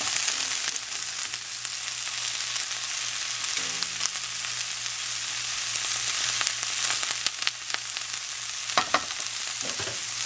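Freshly blanched green beans sauté in a pan with a constant bright sizzle, punctuated by scraping, clattering stirs near the end.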